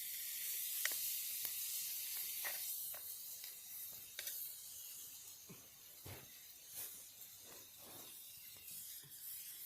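Food sizzles steadily over an open campfire on a riverside sandbar, a continuous hiss broken by scattered sharp pops and crackles, fairly quiet and without talk.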